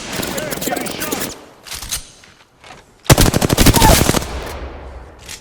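Automatic weapon fire in the Apex Legends battle royale game: rapid bursts of close, loud shots, a short burst early on and a longer sustained volley later, with a character voice speaking between them.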